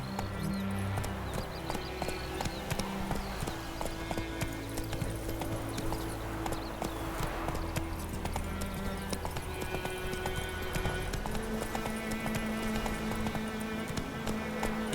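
Horse hooves clip-clop steadily at a gallop in The Witcher 3, played on Xbox Series S, continuous and fairly loud over a bed of game music, with a brief rider's call now and then.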